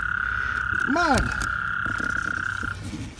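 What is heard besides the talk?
frogs croaking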